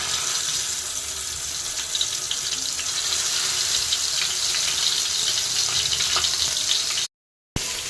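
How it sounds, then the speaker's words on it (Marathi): Brinjal (eggplant) pieces in hot oil in a pan give a steady, close, loud frying hiss with scattered small crackles, holding unbroken until a short gap near the end, with no talking. "बघा तर आपली सर्व वांगी आपण तेलामध्ये सोडल्या."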